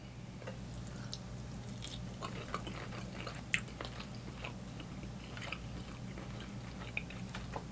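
Quiet close-up chewing of Red Lobster shrimp scampi, soft wet bites and smacks spread through several seconds over a low steady hum, with no talking.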